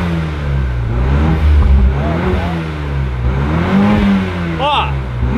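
A BMW Z4 engine revs in short bursts, rising and falling under loud nearby chatter and voices, the engine note fairly mild rather than a deep roar.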